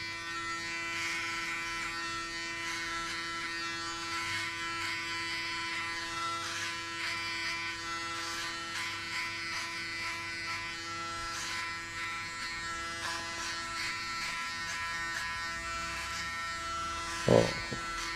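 Electric hair clippers buzz steadily and close up while shaving a friend's head into a buzzcut, with a constant whine lasting throughout and a brief louder bump near the end. No one speaks.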